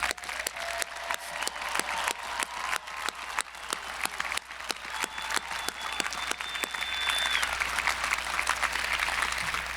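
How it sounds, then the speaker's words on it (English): A Weber State University 2020 commencement audience claps for the graduating class: distinct, fairly quiet individual claps in a loose rhythm, thickening into fuller, denser applause toward the end. "loud round of applause"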